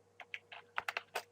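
Quick, light clicks of typing on a computer keyboard, about eight keystrokes in uneven rhythm, close and fairly quiet.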